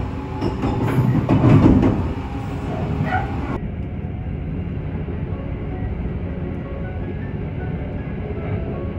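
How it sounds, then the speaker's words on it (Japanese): The Sunrise Seto sleeper express pulls out of Maibara Station, with rumbling rail noise and a brief louder surge early on before the sound drops to a steadier, muffled interior drone. "米原駅をサンライズ瀬戸号発車していきます。"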